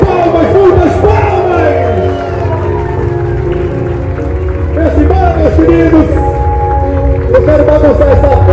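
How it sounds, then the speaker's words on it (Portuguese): Crowd at a couple's wedding reception party clapping and cheering loudly and steadily throughout, with music and voices mixed into the sustained applause. "Palmas, muitas palmas."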